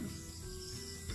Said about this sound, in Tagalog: Lalo pag sa hapon, yung paggabi na. Mga kuliglig.